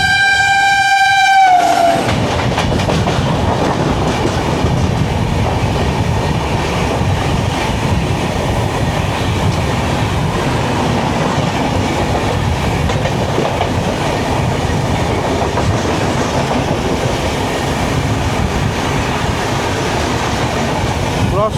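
The Mumbai–Howrah Gitanjali Express sounds a loud horn briefly, then runs on with steady rumble and rhythmic clickety-clack of wheels over rail joints, heard close from on board.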